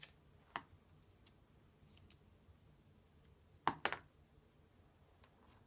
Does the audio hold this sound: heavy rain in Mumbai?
no